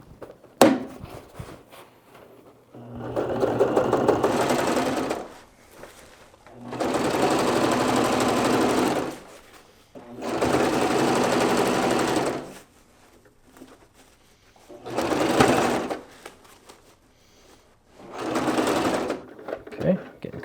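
Sewing machine stitching a roll top onto a bag in four or five loud, steady bursts of a few seconds each, separated by short pauses as the work is turned at the corners; nobody speaks during the stitching.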